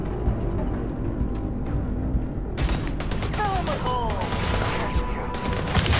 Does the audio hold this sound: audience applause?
no